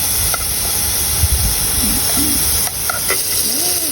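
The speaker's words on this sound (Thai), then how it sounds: "ทำให้หมูสุกก่อนเนาะ" Pork sizzling steadily in a hot pan for egg-pan cooking, a loud continuous close hiss broken by scraping stirs and occasional light utensil knocks.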